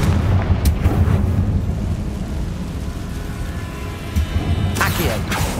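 A Confringo fire spell in Hogwarts Legacy bursts with a sharp blast and booming rumble, followed by a sustained low roar of fire and debris and a second crackling impact near the end.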